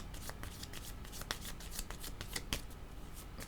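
Tarot cards are shuffled and drawn, a continuous close riffling and sliding of cards with small snapping flicks, steady and fairly quiet over a low background hum.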